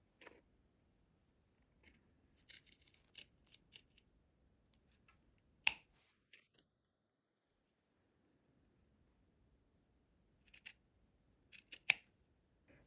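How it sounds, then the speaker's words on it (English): Scissors snip through tree skirt fabric in short, quiet bursts of crisp cuts, down to the stitch line, with pauses between groups of snips in an otherwise quiet room. "So I'm just cutting down to that stitch line"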